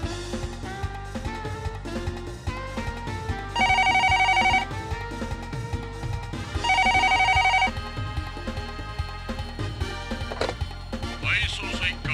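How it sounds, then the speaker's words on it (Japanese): A telephone rings repeatedly during a call in a Detective Conan PlayStation mystery game, two electronic ringing bursts standing out over continuous game music. "次はメグレ警部に電話してと。"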